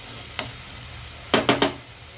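Veg momo filling with chopped coriander is stirred in a pan, a single scrape followed by a quick run of three loud spatula scrapes against the metal over a faint background sizzle.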